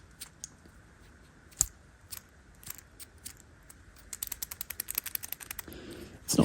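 A worn pulley bearing on a Mercedes S600 gives off faint, irregular ticks and clicks during engine service. The clicks quicken into a rapid rattling ticking toward the end, close and quiet, with no voices.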